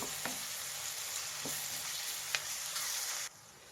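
Onions and ginger garlic paste frying in a pan, an even, quiet hiss with a few soft stirring taps before the sizzle cuts off abruptly near the end.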